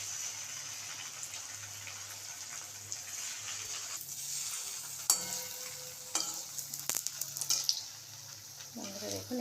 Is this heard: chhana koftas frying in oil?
yes